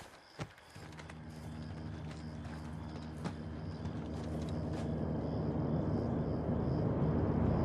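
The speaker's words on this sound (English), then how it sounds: "Got a heli incoming." In Call of Duty: Modern Warfare, a helicopter approaches with a low, building rotor rumble that grows steadily louder over several seconds, mixed with distant game ambience and a few faint thuds.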